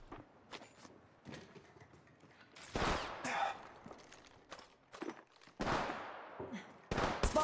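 Gunfire in the mobile game Apex Legends Mobile, loud bursts of automatic shots crackling in several clusters, with quieter single shots and game sounds between the heavy volleys.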